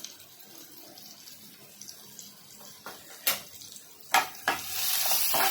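Cumin and asafoetida hit hot oil for street-style egg bhurji, starting as a quiet crackle, then sharp bursts of spitting and a swelling loud hiss that builds toward the end.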